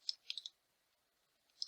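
Quiet computer mouse clicks: a quick double click, a single click, then another click near the end. Sharp, faint and close, with near silence between them.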